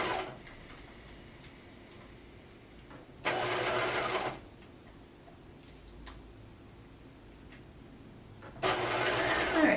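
A sewing machine stitches a lounge set garment in two short bursts of fast mechanical whirring, about a second each, separated by a quieter stretch with faint clicks.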